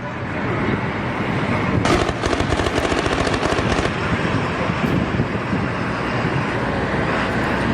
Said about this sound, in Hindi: सरकारी इमारतों पर बड़े हमले लगातार जारी हैं, एक के बाद एक फायरिंग हो रही है